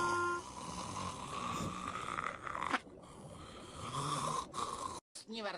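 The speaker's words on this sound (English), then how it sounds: "They are doing their own snores too." Cartoon characters Squidward and Patrick snore in a foreign-language SpongeBob dub, with drawn-out rasping snores recurring in a slow rhythm, broken by short gaps and a brief cut near the end.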